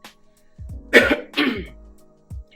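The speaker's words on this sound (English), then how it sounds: "as I'm having to clear my throat" A person clears their throat in a few short, rough bursts close to the mic, with a pause between them and a small final rasp.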